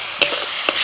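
Ground spice masala of turmeric, Kashmiri chilli, coriander and cumin powder stir-fried in a pan over low heat, a steady close hiss broken by two quick scraping strokes of a spoon.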